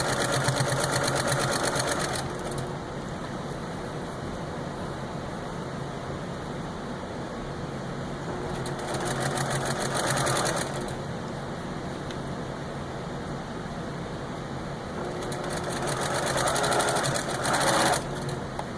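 A sewing machine runs in repeated bursts while stitching binding onto a stocking, fast steady needle chatter rising and falling in several runs, close and loud, with a quieter machine hum between them.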